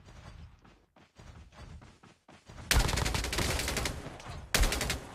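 Gunfire in Call of Duty Mobile: faint mechanical clicks and creaks, then two loud, sharp bursts of shots, the second cutting in after a brief lull, close and dominating.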